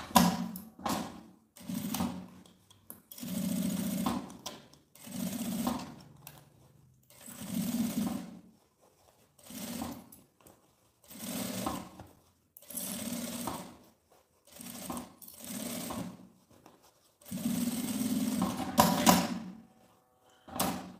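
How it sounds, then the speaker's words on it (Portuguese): A sewing machine stitching all the way around the opening of a zippered cosmetic pouch, running in repeated bursts of rapid mechanical chatter lasting a second or two each, with short pauses between them. "E aqui eu passo, então, uma costura com um pé de máquina em toda a boca da necessaire."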